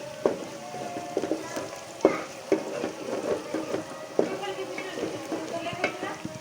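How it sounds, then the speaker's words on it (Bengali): Bay leaves, cloves and cardamom sizzle steadily in hot oil, with a soft continuous crackle and irregular clinks and scrapes of stirring, close and fairly quiet. "আমি এই মশলাগুলো, তেজপাতা, লং, এলাচিগুলো ভেজে নেব"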